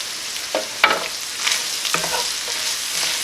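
Apple and sausage stuffing frying in a pan, a steady soft sizzle broken by a few scraping stirs, close by and without speech.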